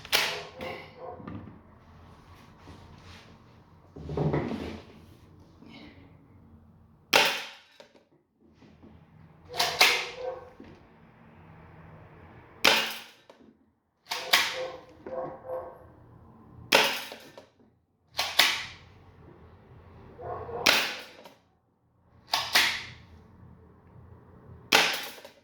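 A spring-loaded Colt 1911 airsoft pistol firing 0.25 gram BBs, about eleven sharp, close snaps spaced a second or two apart, with quieter handling and cocking sounds between shots.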